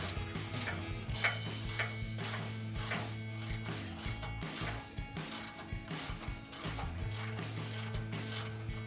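Socket ratchet removing exhaust flange nuts on a 1999-2004 Mustang GT: quick, close, repetitive clicking strokes in steady bursts over nine seconds, with no talking.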